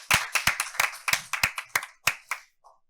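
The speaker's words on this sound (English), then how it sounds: "So again, one more round of applause for our awesome staff." A brief round of applause for town staff at a council meeting, only a few people clapping in a sparse uneven rhythm, close and distinct, then tapering off to silence.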